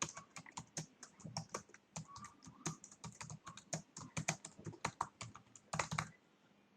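Rapid typing on a computer keyboard, a dense run of sharp clicks and key taps at close range with a brief pause near the end, no talking.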